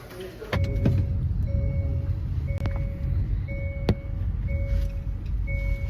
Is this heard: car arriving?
yes